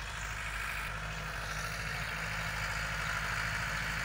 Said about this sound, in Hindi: ये देखें खजों के अंदर घूम रहा है ट्रैक्टर